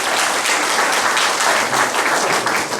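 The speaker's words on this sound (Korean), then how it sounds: "박수 보내주십시오" Loud, close applause from an audience welcoming a guest at a social economy fair rally in Daejeon, a thick continuous burst of many hands clapping with no speech over it.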